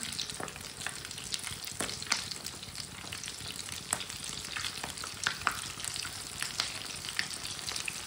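Kebabs frying in a pan over a low flame, giving a steady, close sizzle and crackle with small pops scattered throughout and no one speaking.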